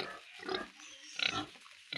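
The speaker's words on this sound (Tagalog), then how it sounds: "O baboy nga." Pigs on a farm grunt and squeal in short, close bursts separated by brief pauses, with a louder squeal near the end.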